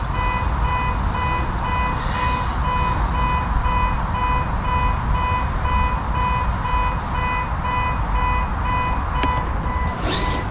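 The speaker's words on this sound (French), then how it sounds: "La petite seconde, je vais arrêter ce bip." An electronic device beeps repeatedly in a steady, even rhythm, a loud high tone pulsing over constant heavy background rumble for the whole stretch.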